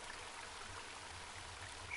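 Cold river water flowing in a video game, a soft, continuous rushing and trickling stream, steady and fairly faint, with no voices.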